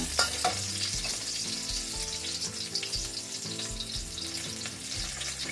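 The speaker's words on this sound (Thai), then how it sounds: "กระเทียมเริ่มจะ สุกไปนะคะ" Garlic fries in a pan for a ginger pork stir-fry, a close, steady sizzle with intermittent scraping and stirring knocks from a utensil, with no talk.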